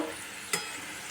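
Potatoes frying in a pan, with a soft, steady sizzle under a single sharp stirring scrape near the middle, close and fairly quiet.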